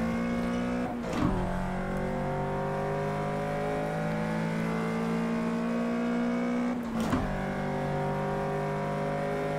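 A street car races in Project Cars 2, its engine holding a steady, droning high rev with two brief dips as gears shift, loud and close, with no voices.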